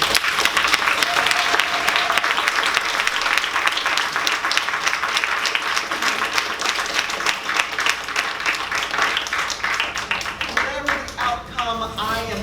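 An audience at a town ward candidate forum applauds a candidate in a long, loud burst of clapping that thins slightly toward the end, where a voice begins to come through.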